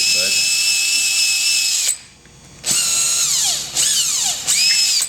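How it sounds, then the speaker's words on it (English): A power drill runs in reverse, clearing rivet holes through the wheel base of a Vessix bag. The whine comes in three close bursts with a short pause after the first, and each burst slides down in pitch as it bites the material. "you want to make sure that the drill's in reverse so that you don't wad up the material into the drill bit"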